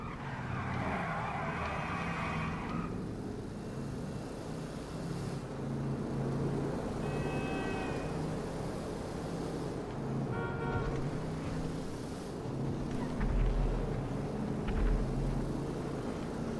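A 1970 Plymouth Barracuda convertible driven in GTA Online, with a steady engine drone, a few tire squeals and brief skids, and engine tone rising and falling as the car races along.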